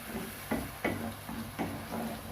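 Egg sauce is stirred in a pan with a spoon, several evenly spaced scraping strokes over a faint background sizzle, close and moderately quiet.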